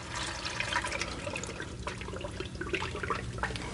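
Engine oil draining from a John Deere 5075E tractor into a bucket, a steady continuous liquid pour and trickle, close and moderately loud, with no talk over it.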